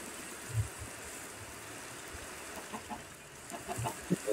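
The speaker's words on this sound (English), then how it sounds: "You don't like the chickens?" Minecraft chickens cluck in short, scattered bursts over a steady ambient game background, with a few brief clucks early and a cluster of quicker ones toward the end.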